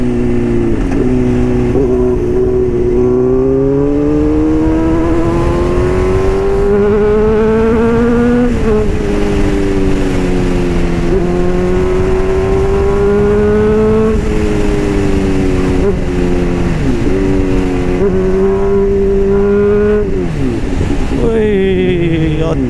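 A Honda CBR motorcycle, freshly given a full service, ridden fast: a loud engine whine climbing and dropping through repeated gear changes, buried in heavy wind rush, close and constant.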